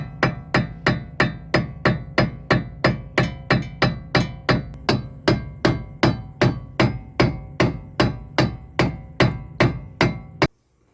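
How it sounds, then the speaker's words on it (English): A hammer strikes a castle nut on a car's wheel hub to knock the axle loose, about two dozen sharp metallic blows in a steady, even rhythm, loud and close, with no talking. "tap this castle nut, and it help break your axle loose"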